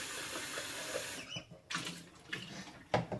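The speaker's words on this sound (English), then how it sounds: "Drain all the water out." Water pours and splashes as it drains off almonds soaked for twelve hours, a loud steady stream that cuts off partway, followed by a few faint knocks and drips.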